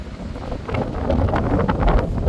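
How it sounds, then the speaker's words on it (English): Wind rushing past the open upper deck of a Dennis Trident Enviro E400 tour bus in London at night, a loud, steady roar of buffeting gusts that swells slightly, with no talking. "Appears to be easterly wind today."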